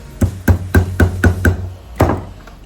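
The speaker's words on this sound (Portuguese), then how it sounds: "Dou uma marteladinha aqui." Six quick, evenly spaced hammer taps on a hard surface, then a pause and one final tap, close and distinct with no talking.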